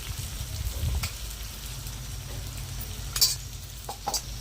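Roasted red chilli powder being stirred into bitter gourd pieces frying in oil for a tamarind curry, with soft sizzling under scattered scraping strokes and a few sharper clinks of the spoon against the pan.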